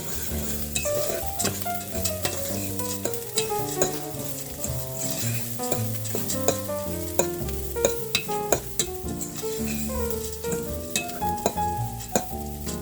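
Fried rice sizzles in a pan while a utensil stirs and scrapes it repeatedly, sharp clinks and scrapes over a steady frying hiss and background music.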